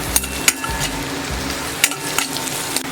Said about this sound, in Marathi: कांदा गुलाबी कलरचा होईपर्यंत भाजून घ्यायचा आहे